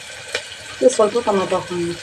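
Paneer gravy fries in a pan with a soft, continuous sizzle beneath a voice speaking close by.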